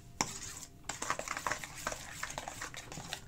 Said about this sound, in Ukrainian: Розмішаю.